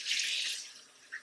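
Hot water runs from a kitchen tap into a container for hummingbird food, a steady hissing stream that fades as the flow tapers off, with a small splash at the end.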